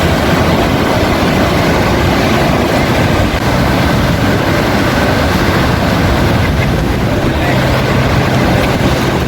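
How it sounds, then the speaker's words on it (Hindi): The Saraswati River at Bhim Pul near Mana village, Uttarakhand, rushes hard between rocks, producing a loud, dense, continuous roar of water that stays constant throughout, with no voices. "चट्टानों के बीच से आती हुई सरस्वती नदी।"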